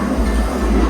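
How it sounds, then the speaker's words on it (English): A New York City subway train rumbles past close by in a very brief, loud burst of low, rolling rail noise. "It's the subway."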